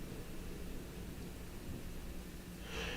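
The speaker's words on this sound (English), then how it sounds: "there was some thunder outside my window just now" Thunder rumbles outside a window during a thunderstorm, a low continuous roll under steady rain-like hiss, with a brighter swell near the end.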